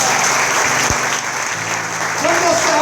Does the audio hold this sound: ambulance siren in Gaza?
no